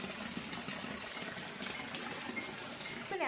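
Rainwater rushing steadily into a drain on a rainy day, a continuous close gushing flow with no pauses.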